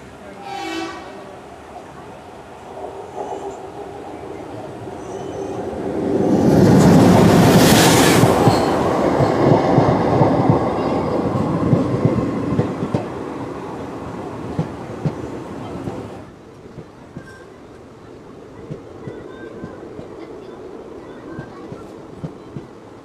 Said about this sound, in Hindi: तो दोस्तों अब हमारी ट्रेन अप्रोच कर रही है किला वाली रेलवे स्टेशन को